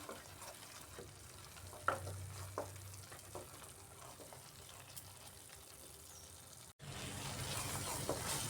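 Spice paste with cashews for a potol paneer curry fried slowly over a low gas flame, a quiet, even sizzle with occasional spoon taps and scrapes, briefly cut out and then returning slightly louder.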